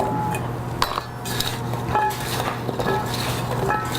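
Sweet potato slices tossed by hand with oil, crushed red pepper and cinnamon in a dish, giving soft irregular clinks and rustles of slices against the bowl, close up and steady throughout.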